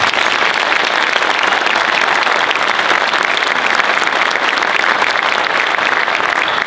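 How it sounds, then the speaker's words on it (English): Sustained, loud applause from a large audience at a promotion ceremony, steady and even throughout with no pauses. "Another round of applause for everyone here."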